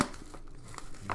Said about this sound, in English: Cut through that plastic there.